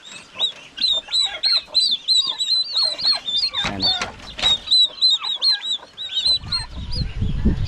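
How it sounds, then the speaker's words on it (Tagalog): Turkeys on a farm gobble over and over in quick, warbling bursts, loud and close, with several birds overlapping and a brief rustle of low noise near the end. "May mga pabo pa tayo doon."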